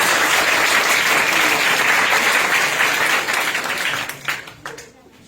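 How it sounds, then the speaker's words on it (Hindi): An audience in an institute breaks into loud, dense applause that holds steady, then thins into scattered claps and fades out near the end. "तो चाहूंगा कि सर के लिए, इंस्टीट्यूट के लिए आप अपने लिए जबरदस्त ताली पहले बजा लीजिए।"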